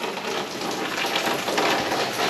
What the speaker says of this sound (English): So it's a raining here.